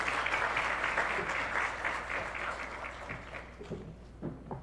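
A large indoor audience at a 2025 Marcus Garvey Public Sector Graduate Scholarship awards ceremony claps steadily and loudly, a dense sustained applause that gradually tapers off toward the end.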